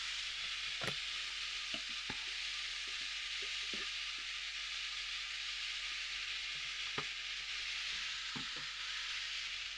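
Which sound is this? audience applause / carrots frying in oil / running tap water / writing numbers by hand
carrots frying in oil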